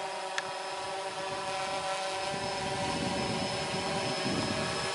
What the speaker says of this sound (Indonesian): Ini drone-nya.